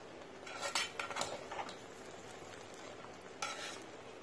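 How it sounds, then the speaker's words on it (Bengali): A polao rice mixture with green chillies is stirred in a pot, giving a few scraping, clinking strokes of a spoon against metal over a low steady cooking hiss, with a busier burst early and another near the end. "এবার আমি এটাকে একটু মিশিয়ে দিচ্ছি।"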